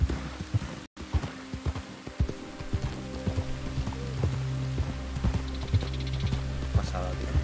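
Rain falls steadily in Red Dead Redemption 2, a continuous patter under faint rhythmic hoof-like clops, with a brief dropout near the start.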